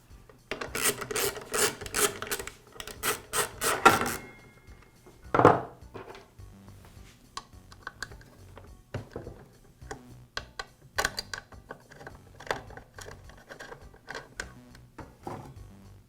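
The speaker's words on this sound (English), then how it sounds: "I'll begin by removing the guard assembly from the saw." The guard assembly comes off a Makita miter saw, a burst of rapid ratcheting and rasping clicks, then a sharp clatter and scattered small metallic taps and rubs of parts being handled, close and fairly quiet.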